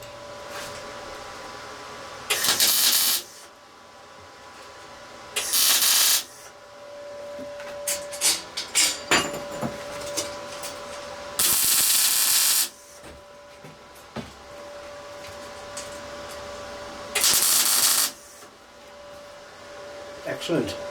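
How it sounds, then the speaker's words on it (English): A welder tack-welds a small steel jig into place while repairing a locomotive grill, giving several short loud hissing, crackling bursts about a second long, spaced a few seconds apart over a quiet workshop background. "That means I can spot weld it into place,"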